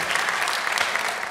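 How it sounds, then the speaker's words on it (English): A school audience at a comedy hypnosis show claps in a burst of applause, dense, steady and close, with no voices over it. "Give him a huge round of applause."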